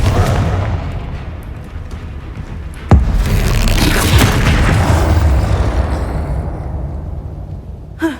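A loud blasting-spell explosion in Hogwarts Legacy hits with a sharp boom, then a long rumbling roar that fades slowly, with a small pop near the end.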